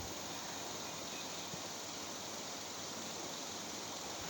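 Gusty windstorm starting up outdoors in an Indian home setting, a steady broad roar of rushing air that stays loud and unbroken throughout, with no voices.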